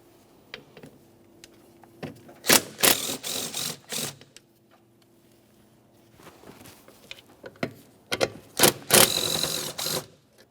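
Three 8mm bolts come out of the power steering reservoir on a 2004-2008 Ford F-150 with a ratchet, giving bursts of rapid mechanical clicking and whirring in two clusters, close by, with quiet gaps between.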